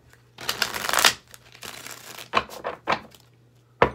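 Tarot cards are shuffled by hand in several quick bursts of riffling and flicking, close up, separated by brief pauses.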